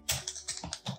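Several quick bursts of keystrokes on a computer keyboard, typing CSS code into a WordPress theme editor; the clicks sound close and fairly loud, with no talking.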